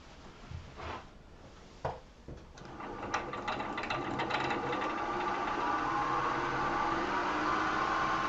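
A wood lathe spins at about 2,000 RPM with a steady whirring drone that builds after a few knocks and handling sounds, then holds at an even pitch.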